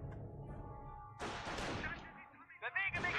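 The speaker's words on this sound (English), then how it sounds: "That's an anti-tank gun." An anti-tank gun fires in the World War II tank game Panzer Elite, giving sharp booming shots with rumbling decay, mixed with other gunfire and game noise and a faint voice in the background.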